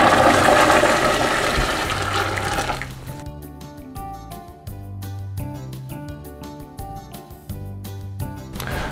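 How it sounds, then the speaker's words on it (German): Water for pasta boiling in an electric kettle gives a steady, loud broadband rush for about three seconds, then fades under rhythmic background music with a low bass pulse. "Und jetzt kocht schon das Nudelwasser im Wasserkocher."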